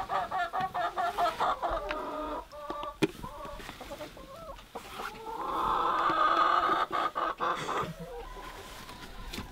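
A backyard flock of chickens clucks and murmurs near a yurt at breakfast time, with repeated close calls and chatter rising into a longer, louder run of clucking before settling into scattered, pulsing clucks.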